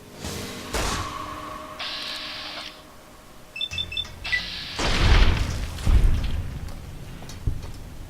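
A grenade launcher explosion in Fallout New Vegas: a heavy boom lands after several electronic game tones and beeps, followed by a second rumbling blast and a fading tail, with no voices.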